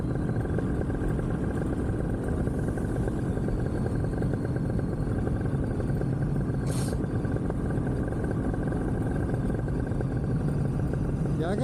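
A two-stroke motor on a small powered aircraft idles in flight after engine maintenance, a steady loud rumbling drone with constant wind noise and no clear change in pitch across the stretch.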